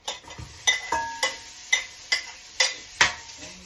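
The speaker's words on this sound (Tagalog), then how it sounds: "ginigisa na natin yung ating sibuyas" Onion sautéing in a pan: a steady soft sizzle with repeated sharp stirring scrapes and taps of a utensil against the pan, about seven evenly spaced strokes, close and moderately loud.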